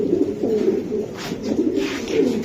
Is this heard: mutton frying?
no